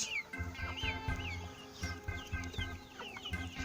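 Ornamental and village chickens in a mixed coop cluck and murmur close by, overlapping short calls and squawks in an irregular stream with no talking.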